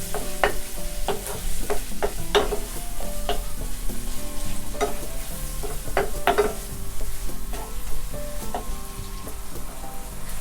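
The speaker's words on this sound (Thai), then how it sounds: "จากนั้นก็เติมพริกป่นลงไปนะคะ แล้วแต่ความชอบ ผัดให้เข้ากันนะคะ" Egg and canned fish with chili flakes stir-fry in a hot pan with a constant close sizzle, broken by repeated scraping strokes of a spatula.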